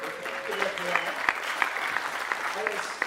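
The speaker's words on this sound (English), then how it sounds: "they clap for you with their hands" A church congregation at a Sunday gathering applauds, a dense, steady clatter of many hands clapping that fills the room for the whole stretch, with a few sharper claps standing out.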